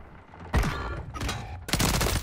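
BP50 rifle firing during a Search & Destroy match in a shooter game: dense bursts of rapid automatic gunfire in three loud volleys separated by brief gaps, close and punchy.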